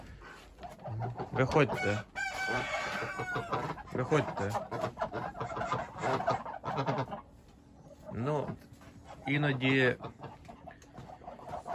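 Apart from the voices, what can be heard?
ducks being let out on a farm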